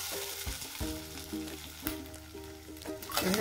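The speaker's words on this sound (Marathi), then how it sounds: "आता आपण त्यात 1 बाउल भरून ओल्या मटारचे दाणे घालणार आहे" Fresh green peas hit hot oil with cumin seeds and green chillies in a pan for matar puri, giving a soft steady sizzle broken by the clinks and scrapes of stirring.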